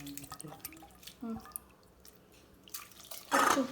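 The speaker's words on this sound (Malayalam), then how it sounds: "കുറച്ച് ഉപ്പ് ചേർത്ത വെള്ളം കൂടി നമ്മൾ ഇതിൻ്റെ ഒഴിച്ചു കൊടുക്കുക കേട്ടോ." Salted water is poured into a clay pot of sole fish curry in a village kitchen, heard as scattered drips and small splashes with a short, louder pour near the end, otherwise fairly quiet.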